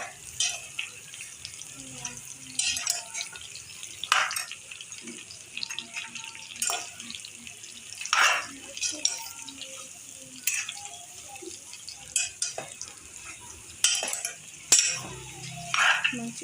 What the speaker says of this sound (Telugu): ఇప్పుడు బాగా మిక్స్ చేసుకుందాం కలిపి